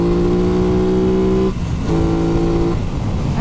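A 2021 Aprilia RS660 motorcycle, a 100-horsepower middleweight sport bike, being ridden with its engine loud and close, droning at steady revs, briefly dropping off around a gear change and then pulling again.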